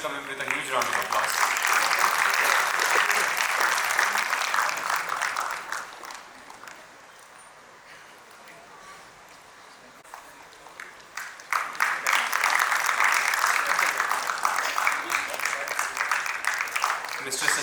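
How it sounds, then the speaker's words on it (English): Applause from an audience at an inauguration and felicitation program, welcoming an assistant professor guest: a long loud round of clapping that fades to near quiet midway, then swells back just as strongly. "Welcome him with a huge round of applause"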